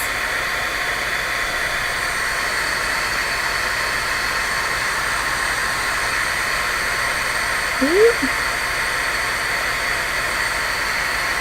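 A heat tool melts embossing powder, giving a loud, constant blowing roar throughout with a steady hum, one faint brief squeak near the end.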